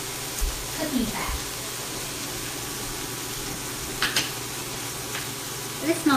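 Pork carnitas meat sizzles and fries in cooking fat inside an Instant Pot, a steady loud hiss with occasional stirring scrapes of a utensil against the pot.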